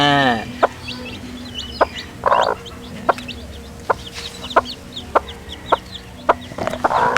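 Native chickens cluck in a barnyard, with a steady run of short, sharp clucks and peeps from newly hatched chicks and hens, fairly close and clear, with no talking.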